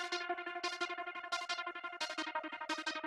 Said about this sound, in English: another effect rack called Smooth Square Tremolo, and both of those combined makes the lead sound like this